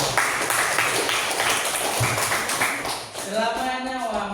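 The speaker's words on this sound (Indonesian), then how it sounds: "Tepuk tangan dulu." A high school class claps hands together in a classroom, with steady, fairly loud clapping that gives way to a voice speaking near the end.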